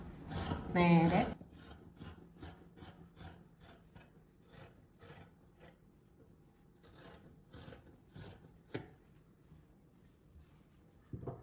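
Scissors cutting through nighty fabric, with a series of crisp snipping cuts after a louder opening rustle of cloth, close and fairly quiet, and a brief word spoken.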